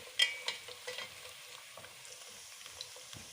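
Onions and whole spices, cardamom, cloves, coriander seeds and dried black lime, fry and sizzle in a pot for biryani, a soft steady crackle with a few stirring clinks near the start.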